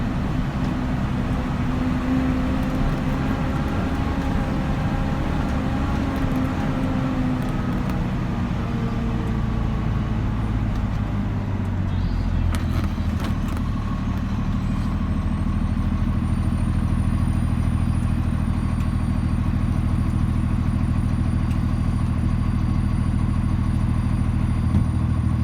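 A 2013 Kenworth T370 wrecker with a 350 hp Paccar PX9 engine runs with a steady low diesel drone, the engine note shifting midway and settling into a deeper, fuller rumble heard from inside the cab.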